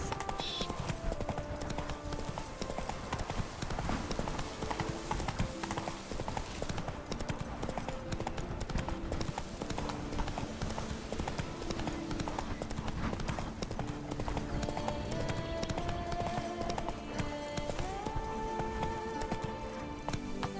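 Roach, the horse from The Witcher 3, gallops in a steady, rapid clip-clop of hooves that runs the whole way through, fairly quiet and layered with game music and ambience.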